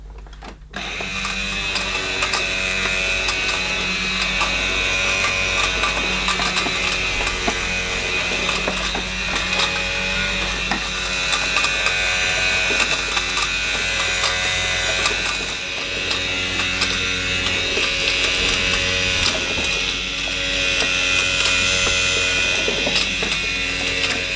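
A Casdon Dyson DC01 toy vacuum cleaner with simulated cyclonic action whirs continuously with a buzzing motor and rattling mechanical noise, steady and close, with no talking.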